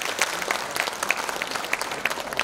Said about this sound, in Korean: 동의하는 입장에서 서로가 자축하는 의미에서 큰 박수 치겠습니다.